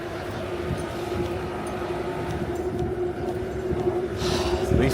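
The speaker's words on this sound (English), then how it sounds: "I think I hear a subway train passing under us." Deep rumble of a subway train passing underground beneath a Midtown Manhattan street, a steady low roar with a faint hum, heard through outdoor city ambience and swelling slightly toward the end.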